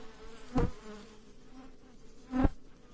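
Honeybees hum quietly around an open hive, with two louder buzzing passes as individual bees fly close by over a faint steady background drone.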